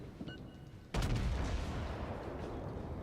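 Ship main guns fire in World of Warships, the Mikasa battleship: one heavy, close booming salvo breaks in and leaves a long rumbling roar, after a quieter stretch of background game noise.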